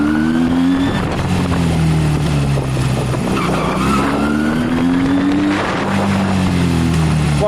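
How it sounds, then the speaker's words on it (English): A Honda CB250 motorcycle fitted with a Sinnis SC125 performance carburettor is ridden hard, its engine note climbing and dropping as it shifts up through the gears, loud and continuous with wind roar and no voices. "Now I'll go up through the gears."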